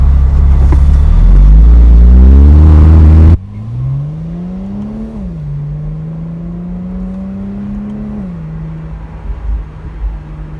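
A high-mileage Porsche engine drones steadily while driving, its pitch climbing and dipping through gear changes after a loud, rumbling start; no voices.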